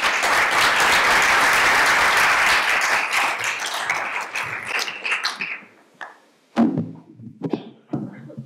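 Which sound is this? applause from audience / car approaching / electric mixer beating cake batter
applause from audience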